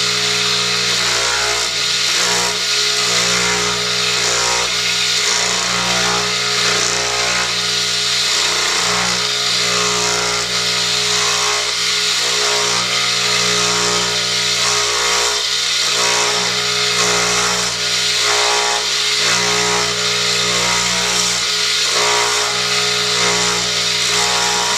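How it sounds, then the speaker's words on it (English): A power sander grinds steadily against a wooden mallet, a loud, continuous whirring hum with slight rhythmic changes in pressure and no talking. "Now for a bit of sanding."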